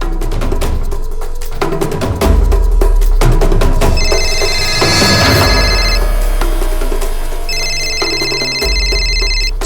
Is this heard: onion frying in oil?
no